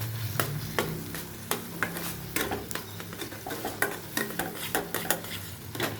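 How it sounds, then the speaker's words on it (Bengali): Spice paste for a Bengali bean dish fries and sizzles in a pan, turmeric and a little sugar just added, with a steady crackle and repeated sharp scraping strokes of a spoon stirring it, close and clear. "এবার এটা এখন ভালোভাবে কষানো হবে।"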